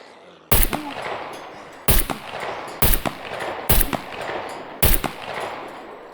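Gunfire in the Scum video game: five sharp, loud single shots spaced roughly a second apart, each followed by a short echoing tail, close to the listener with no talk.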